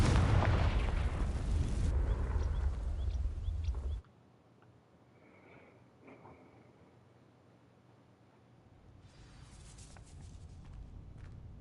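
A Confringo fire spell in Hogwarts Legacy ignites dry vines, with a loud, dense roaring burst of flame that cuts off sharply, followed by quiet crackling and then a rising rumble.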